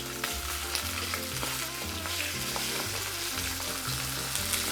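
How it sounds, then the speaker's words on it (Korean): Chicken skin searing skin-side down in a lightly oiled, smoking-hot pan, a dense continuous sizzle and crackle held close and steady throughout, with no voices. "팬에 이제 연기가 이제 올라오기 시작했으면은 이때부터 껍질 쪽부터 시어링을 시작해 줄게요"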